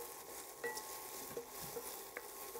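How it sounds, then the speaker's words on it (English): Okra and spices sautéing in a pan for okra in coconut milk, a soft steady sizzle with a few light scraping stirs, fairly quiet and close, no talking. "So we're going to saute all this."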